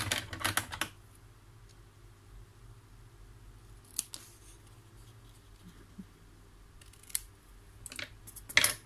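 Scissors cut diagonally through paper for a mini album, with a crisp burst of snipping at the start and a few sparse clicks and snips afterward in a quiet room.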